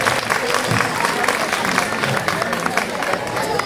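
Audience applause at a children's casting event, dense, continuous clapping from a crowd, loud and close, with faint murmuring voices mixed in beneath it.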